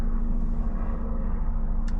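A steady low rumble of an airplane passing overhead, continuous and fairly distant, with no voices.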